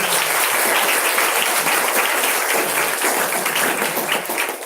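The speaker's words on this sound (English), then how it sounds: "I want you all to clap hands for all the 4 people" An audience at a talk claps steadily, dense applause from many hands filling the room for several seconds before tapering slightly.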